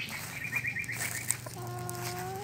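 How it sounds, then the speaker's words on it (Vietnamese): Chicken clucking while being handled, a tongueless rare fowl, with short clucks and squawks over steady low farmyard background, close and moderately loud. "Gà này nó không có lưỡi các bạn."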